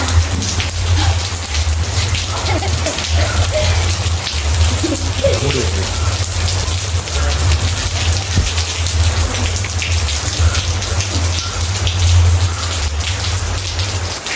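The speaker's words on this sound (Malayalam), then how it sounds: "നല്ല മഴയാ." Heavy rain pours down steadily in a village, a loud, dense, even hiss of drops on surfaces lasting throughout, with a low rumble underneath and a brief voice speaking near the start.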